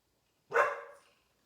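A single short dog bark sounds close by, fading quickly into silence.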